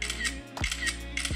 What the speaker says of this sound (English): you got a shutter button with really nice click, so you can kind of hear the click right there